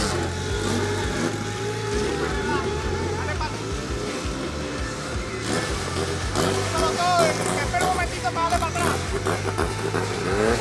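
A turbocharged Honda CR-V launches down a drag strip, its engine revving and accelerating amid a loud, busy race-day crowd and other engine noise, with honks and voices mixed in throughout.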